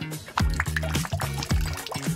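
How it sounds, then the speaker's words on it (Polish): Nail polish poured into a bowl of water for a nail-art trick, heard as a few soft liquid drips and trickles over a steady background hum and faint melodic music. "Przygotuję miskę z wodą i wleję do niej lakier."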